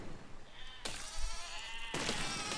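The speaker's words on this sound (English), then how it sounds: "Kill those sheep." Sheep in the video game Besiege bleat in two loud, close, wavering cries, one after another, with no talking over them.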